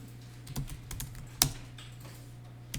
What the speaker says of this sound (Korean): 조회할 때는 물음표 단추 눌러서 상품